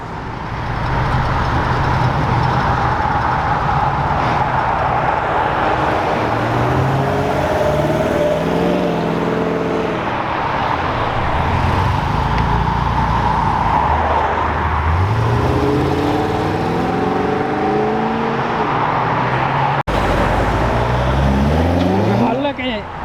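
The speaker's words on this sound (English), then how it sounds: "So when you get two cars leaving at the same time, you don't know who to look at," Classic cars pull away from Brooklands, with loud engines revving and rising in pitch through gear changes over a long stretch while spectators talk over the roar.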